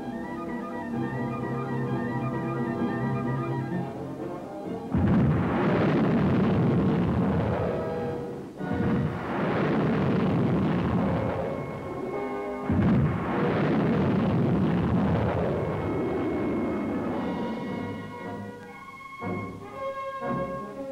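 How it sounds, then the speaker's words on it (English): A Sergeant guided missile fired at the end of a 1963 Army engineer service test launches with loud, sustained roaring bursts from about five seconds in, rumbling and swelling repeatedly, with a quieter tonal background before and after. "the last missile of the test series, round 28, was successfully fired."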